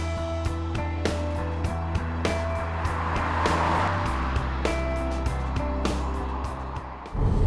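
An Audi Q3 with a 1.4 litre TFSI petrol engine and a 6-speed automatic gearbox on the move, a steady low engine drone with regular thumps and clicks over it and a brief drop in pitch near the end.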